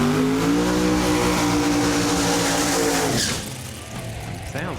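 A drag racing car making a pass, its engine roaring loud with rising revs before cutting off abruptly, leaving quieter background noise.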